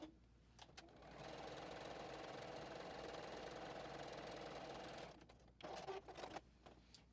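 A JUKI sewing machine stitching seams on a fabric basket lining: a steady, fast mechanical whir for about four seconds, then stopping, followed by a few light clicks and handling noises.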